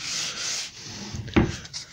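A 320-grit sanding sponge rubs across a painted kitchen door in short scuffing strokes, with a soft hiss that ends in a sharper rasp near the close, heard up close and alone.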